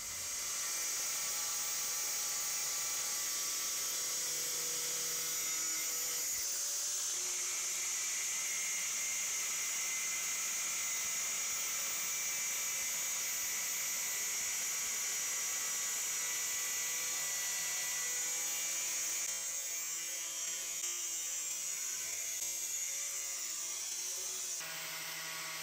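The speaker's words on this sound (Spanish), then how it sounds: "Yo la voy a cortar con una amoladora pequeña." Small angle grinder cutting through a barbecue grill grate gives a steady high-pitched whine that holds for a long stretch, with a rougher cutting texture toward the end, no talk.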